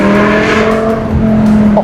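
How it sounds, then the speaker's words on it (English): A rebuilt BMW M5 V10 engine holds a loud, high, steady rev, then climbs slightly near the end, close and continuous, outdoors among trees. "See what the V10 sounds like."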